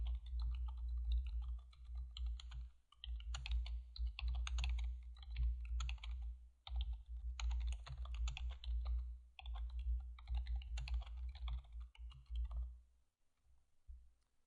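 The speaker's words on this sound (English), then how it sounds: "We'll type in the name and a description for it." Keys clatter in short bursts on a computer keyboard as a name and description are typed into a Java report-writing tool, with close, brisk clicks separated by brief pauses and a steady low hum underneath.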